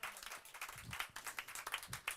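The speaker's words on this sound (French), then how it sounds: "Et puis on peut applaudir Isabelle." Audience applause at a conference on Black music of Latin America and the Caribbean, a fairly quiet, steady patter of many hands clapping across the whole stretch with no voices over it.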